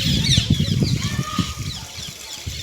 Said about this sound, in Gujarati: કેટલા બધા પોપટ ઉડ્યા